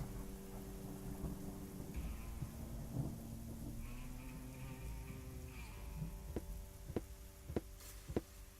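Thunder and rain in the video game Chaos on Deponia, a low rolling rumble with steady rainfall beneath, tonal music-like lines over it and a few sharp drop-like clicks toward the end.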